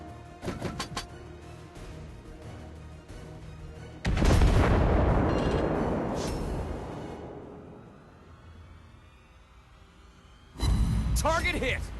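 Naval guns boom in the mobile warship game World of Warships Blitz with a battleship, a B. Monarch: a short burst of shots, then a heavy blast that rolls and fades, another loud shot near the end, with game announcer voice lines.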